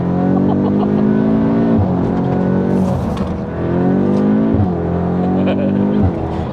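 A tuned 475bhp Audi S3 8Y with a TCU map pulls hard under acceleration, its engine note climbing through the revs in repeated rising sweeps between quick gear shifts, loud and heard from inside the car.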